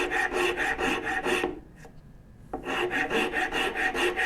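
A rasp files wood on a turned bow saw part in quick, rhythmic scraping strokes, close and loud, with a short pause in the middle before the rasping resumes.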